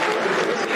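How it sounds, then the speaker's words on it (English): Football crowd at a Millwall versus Birmingham City match applauding a substituted player as he leaves the pitch, a brief, steady wash of clapping and crowd noise. "A very good round of applause for Tom Bradshaw."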